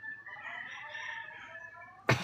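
A rooster crows loudly and close, a single call at the end that rises above a quiet background.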